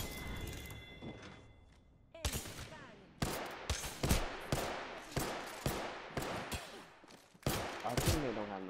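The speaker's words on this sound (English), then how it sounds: "You getting shot at?" Bursts of video game gunfire in a team shooter match crack out in rapid clusters, loud and close, with sharp repeated volleys separated by brief pauses.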